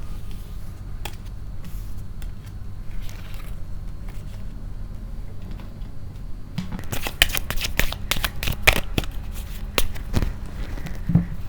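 Oracle tarot cards are shuffled and drawn: quiet room tone at first, then a burst of crisp, rapid card riffling and flicking up close over the last few seconds, with no talk.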